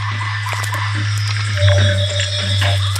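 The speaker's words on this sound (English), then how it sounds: "By the stream below, a gathering of mantella frogs feast on insects." Mantella frogs call beside a stream in Madagascar, with short chirps and croaks over a constant low hum and a watery background.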